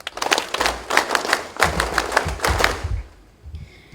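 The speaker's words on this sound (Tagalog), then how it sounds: "applause, please. No, palakpak!" Scattered applause at a Basic Citizen Military Training closing ceremony of the 4th Regional Community Defense Group, several hands clapping unevenly for about three seconds before fading to near quiet.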